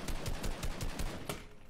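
Rapid bursts of video game gunfire crackle in quick repeated shots, fairly faint and steady across the short moment with no voices over it.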